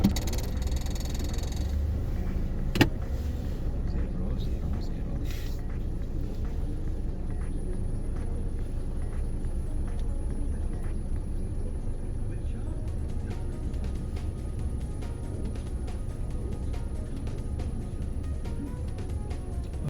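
A car moving steadily through city streets during a driving lesson, its low engine and road rumble continuous and fairly close, with a brief sharp knock early on and quiet voices now and then.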